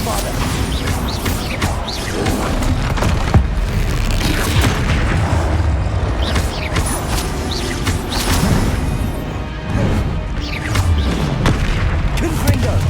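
Bombarda explosion spells in the video game Hogwarts Legacy boom repeatedly amid crashing impacts and mechanical clatter, loud and close, while a voice talks throughout.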